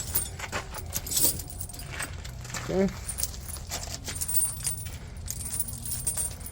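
Metal snow chain links clinking and rattling as they are laid and tucked under a truck's 22.5 tire, irregular jangling bursts close by with a voice speaking briefly.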